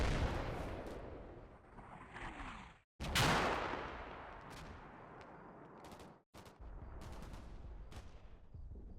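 Bursts of sprayed automatic gunfire in the Combat Mission: Black Sea war game, loud, close cracks in rapid volleys with short gaps between them.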